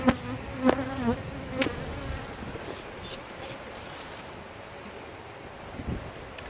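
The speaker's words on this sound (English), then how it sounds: "I've got a bee up the sleeve" A honey bee buzzes close by during a hive inspection, its drone rising and falling, with a few sharp bumps and soft rustling around it; nobody speaks.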